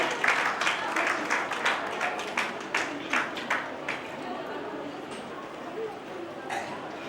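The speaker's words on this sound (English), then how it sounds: "Please give them a huge round of applause for our eminent speakers." Audience clapping for speakers at a conference starts out brisk, with distinct individual claps, then thins and fades over several seconds at moderate volume.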